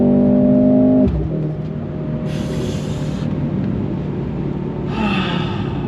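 A 2023 Mercedes-AMG C43 sport sedan accelerates under throttle, a continuous engine roar heard from inside, shifting tone early on and cut by brief hissing bursts, with no talking.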